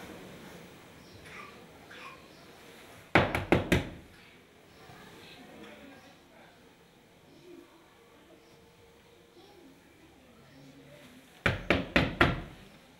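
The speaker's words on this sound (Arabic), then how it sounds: "ضوضاء على الباب" Knocking on a door comes in two sharp bursts of four or five quick raps, loud and close, separated by a stretch of quiet room ambience with faint murmurs.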